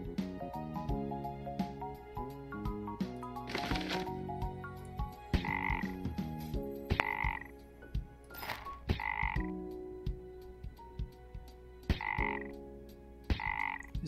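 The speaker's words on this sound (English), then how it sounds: "It's just the froggies with the fists on their head." Cartoonish frogs croak in a game of Idleon, a busy run of close, bright, repeated croaks and chirps layered over a plinking melodic game soundtrack, with no one speaking.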